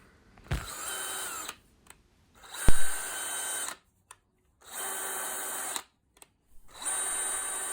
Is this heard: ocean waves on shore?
no